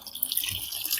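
Water runs steadily from a tap in a home setting, a soft continuous hiss and splash heard alone at close range, with no talking.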